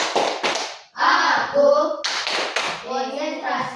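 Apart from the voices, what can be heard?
children doing the concentration clap (tepuk konsentrasi)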